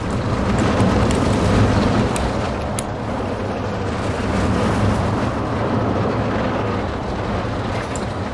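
A continuous rumbling roar of a video game roller coaster train running in Planet Coaster 2, steady and loud throughout with a dense rattling texture and no speech.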